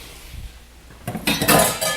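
Broccoli goes into a pan of shrimp simmering in cream with mushrooms, making clinks and clatters of metal and utensils that grow louder over a quiet start.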